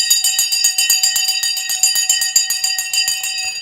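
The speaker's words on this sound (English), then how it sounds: "Let's see if we can catch the bell on Wall Street" Rapid, steady clanging of the Wall Street stock market closing bell, loud and continuous with a bright metallic ring and no voices over it.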